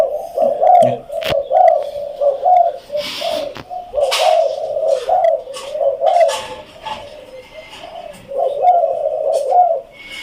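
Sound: spotted dove cooing

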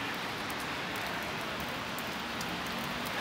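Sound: rain falling during outdoor walking tour

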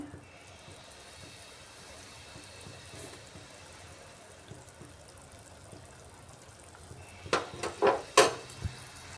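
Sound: rasam with mashed tomato boiling in a pot

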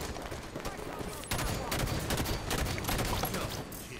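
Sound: sniper rifle gunfire in a video game

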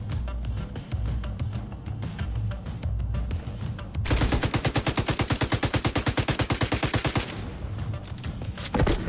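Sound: gunfire in video game The Division 2

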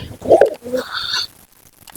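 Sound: pigeon cooing

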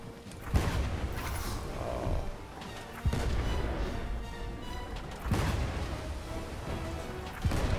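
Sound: ship cannon fire in the video game Blazing Sails

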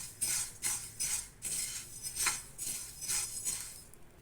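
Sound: sesame seeds being roasted and stirred in a pan

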